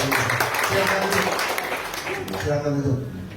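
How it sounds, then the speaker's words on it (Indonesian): A church congregation claps for God in a full, continuous burst of applause from many hands, with voices mixed in beneath and the clapping thinning slightly near the end. "berikan tepuk tangan untuk Tuhan"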